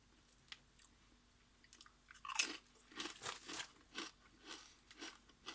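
Ham and English mustard potato crisps crunch close to the microphone in a quick series of sharp bites and chews, each crackly burst standing out against near silence.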